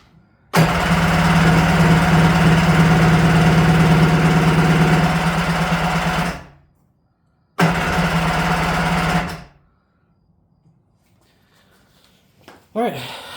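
A Kawasaki 550SX two-stroke jet ski engine cranks and runs roughly for several seconds, dies, then fires again briefly before stalling; loud, close and rattling, with a short sound at the end.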